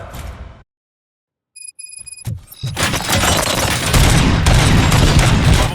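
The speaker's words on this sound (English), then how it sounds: "Gunshots? What's going on?" After a short burst of noise and a moment of silence, loud rapid gunfire in the video game Robocop: Rogue City erupts and keeps going in a dense, continuous volley.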